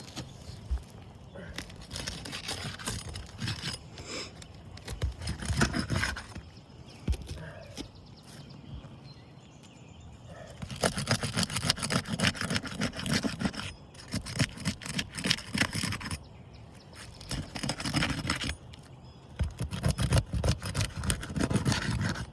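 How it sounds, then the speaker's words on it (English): Roof shingles being pried loose, with the tar adhesive strips broken apart and nails removed, heard as bursts of loud scraping, rasping and crunching close by, separated by quieter pauses. "we are going to have to undo the tar adhesive strips on all of these shingles and remove nails to above"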